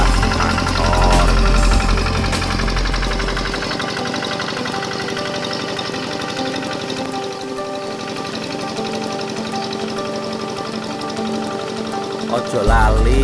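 Tractor engine running as the tractor makes a turn, heard up close. A loud, steady, knocking diesel chug continues throughout, with heavy low rumble at the start and end.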